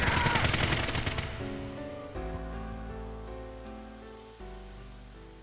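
A rapid, rattling volley of gunfire in AI: The Somnium Files – Nirvana Initiative sprays loudly for about a second, then cuts away as sustained musical tones take over.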